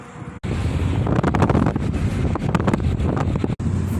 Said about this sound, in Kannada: ಫುಲ್ಲಾಗಿ ಜೋರಾಗಿ ಗಾಳಿ ಬರ್ತಿದೆ